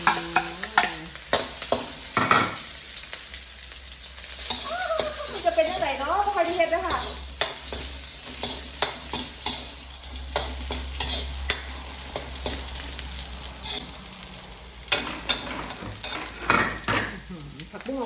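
Vegetables sizzle and clatter in a hot wok, with repeated scraping strokes and metallic knocks of a utensil, and brief bits of speech between.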